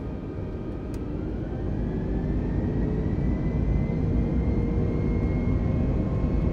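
A Jetstar airliner accelerates down the runway for takeoff on a Hobart to Melbourne flight, its engines building into a loud, steady cabin roar with a thin whine climbing slowly in pitch.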